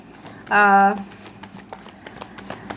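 A deck of tarot cards is shuffled in one brief riffle lasting about half a second, fairly loud against a quiet room with a low voice in the background.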